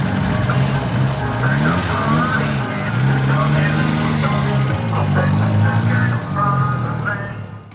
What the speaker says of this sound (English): Never been so happy to hear an engine running.